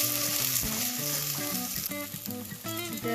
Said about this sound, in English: I'm going to add around 1 teaspoon of ginger garlic chili paste and let it cook further till the raw smell goes away